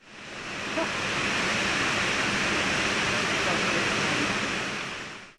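Tortum Waterfall in Erzurum in winter sends a loud, steady roar of rushing, crashing water that holds evenly for several seconds with no breaks.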